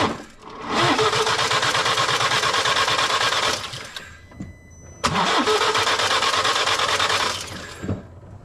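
A BMW N47 diesel engine, suspected of a broken timing chain, cranks and runs in two separate bursts of about three seconds each, with a rough, uneven mechanical clatter and short quiet gaps between the bursts.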